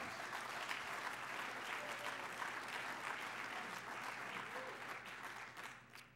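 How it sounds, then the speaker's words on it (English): Audience applause at a city's State of the City address in Gaithersburg, a sustained, even patter of many hands clapping at moderate distance, fading slightly at the end. "That deserves a round of applause."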